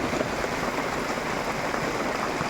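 Heavy rain pouring down in a steady, dense hiss of drops on surfaces, continuous and moderately loud with no voices.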